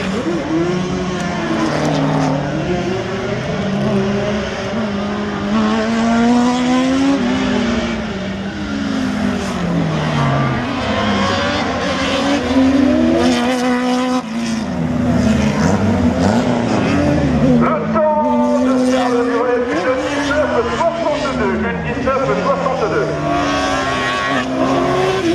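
A race car, number 228 driven by Dimitri Marie, runs the 2017 Neufbourg slalom. Its engine rises and falls in repeated loud revving sweeps as it accelerates and brakes through the course, with a faint voice at times beneath.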